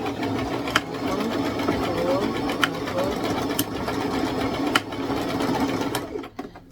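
A sewing machine stitches backward and forward along a ruffled tutu anklet, a close, steady rapid whirring with brief knocks spaced through it before it winds down at the end.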